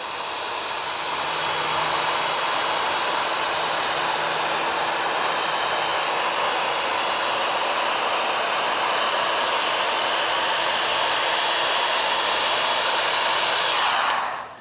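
Heat gun pre-shrinking vinyl wrap on a car fender, blowing a constant loud, close rushing whoosh for the whole stretch before cutting off abruptly at the end.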